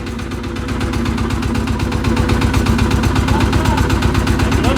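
Loud, close chugging from an old Sangsa L32 32 hp diesel engine running at a steady idle, its rapid even knock continuing throughout with no break.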